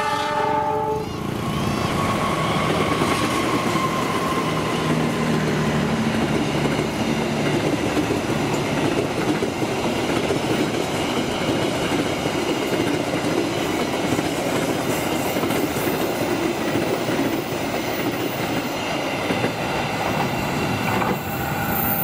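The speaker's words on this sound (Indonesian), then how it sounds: "kereta api Brawijaya hari ini pakai gerbong bagasi BHP-nya Depo Malang" An Indonesian Brawijaya passenger train with a baggage car passes through a large curve near Cikarang, giving a sustained loud rumble with clattering wheels and occasional metallic squeal, no voices.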